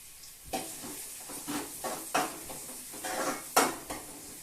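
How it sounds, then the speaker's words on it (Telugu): Onions frying in a pan for a crab curry, with quiet sizzling punctuated by several sharp stirring scrapes and clinks of a utensil against the pan, close and alone without talk. "ఉల్లిపాయ వేగుతుందండి"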